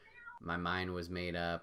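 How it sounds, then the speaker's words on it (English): A cat meows loudly in a long, drawn-out, wavering cry while a person talks in the same moment. "If you can hear crazy cats in the background"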